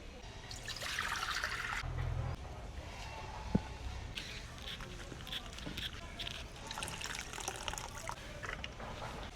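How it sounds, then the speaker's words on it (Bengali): Fresh drumstick flowers sloshed and rinsed in water, a close trickling splash that rises and falls, with one sharp knock partway through. "সজনে ফুলগুলো একদম টাটকা, এইগুলো বেছে পরিষ্কার করে ধুয়ে নেব।"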